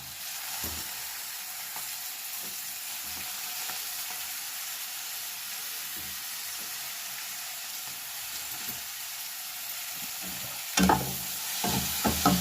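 Onion and tomato frying in a pan, a steady close sizzle with soft periodic stirring, ending in a few louder spatula scrapes and knocks against the pan; no one speaks.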